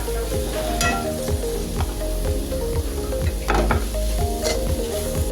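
Minced keema and onions sizzle steadily in a hot pan, with a regular rhythm of spoon strokes scraping through the mixture over a constant frying hiss, close and clear with no voices.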